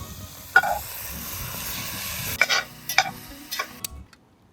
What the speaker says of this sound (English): You always want to brown your meat first before throwing in the vegetables.